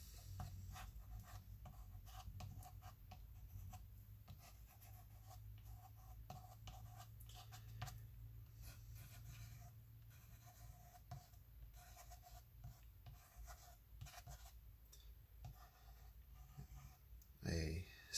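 Tool scraping across wet watercolor paper to form rock faces, a steady low raspy rubbing that continues for the whole stretch, with quiet speech and small ticks under it.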